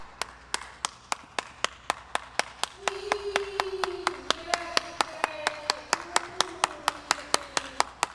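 Steady, evenly spaced hand claps ring out one after another, close and crisp, over a faint background, with a sustained sung or held tone running underneath midway through.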